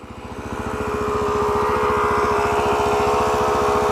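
Suzuki DRZ400SM motorcycle engine idling up close, a steady rapid single-cylinder putter that swells in loudness over the first second and then holds even and loud.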